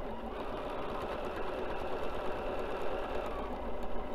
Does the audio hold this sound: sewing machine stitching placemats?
yes